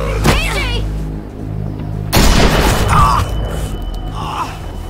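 Loud blasts from a video game shootout, with a sharp broadband crack partway through and a burst of heavy booms midway, set over a low rumbling game soundtrack.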